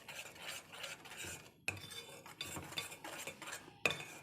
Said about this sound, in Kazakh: Осылай еріген балымыздың үстіне 1 шай қасық ас содасын салып, оны жақсылап араластыратын боламыз.